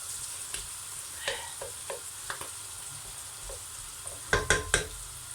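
Onions fry and brown in a pot over high heat, giving a steady close sizzle broken by several sharp stirring scrapes and clatters, with no talking.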